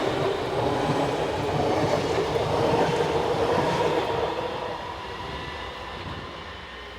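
A pair of class 425 electric multiple units, 425-050 and 076, pull away from the platform on a Minden–Hannover local stopping service, a steady rumble of wheels and traction that gradually fades.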